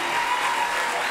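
Applause from a bluegrass show audience, a steady wash of clapping filling the whole moment without a break.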